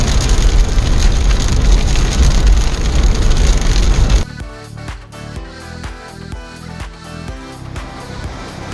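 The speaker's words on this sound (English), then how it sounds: "It is hailing like crazy all of a sudden" Heavy hail pelting down on a trail during a Colorado mountain hike, a dense loud clatter that suddenly drops to a lighter rhythmic patter of hailstones striking a hard surface.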